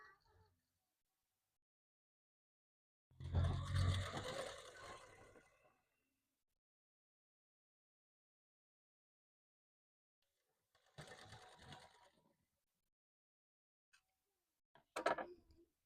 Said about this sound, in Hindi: अब मैं इसके ऊपर कच्ची सिलाई लगाऊंगी ताकि कपड़े जो इधर उधर खसके ना।